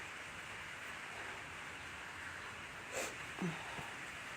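Light rain falls in a steady, faint hiss outdoors, with a couple of soft taps near the end and no one speaking.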